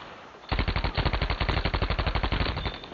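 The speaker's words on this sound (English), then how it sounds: "the Tommy gun, even at that range, which I think would normally be out of range for most SMGs, you can still do some damage" Sustained automatic fire from an M1928 Tommy gun in a video game, a fast even rattle of about two dozen sharp, loud shots in one unbroken burst after a short quiet lead-in.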